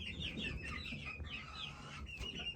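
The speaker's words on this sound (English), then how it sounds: "This one's a hen." A hen held in someone's arms clucks and murmurs in soft, broken bursts close to the listener, with a few higher squawks and chirps and no talk over it.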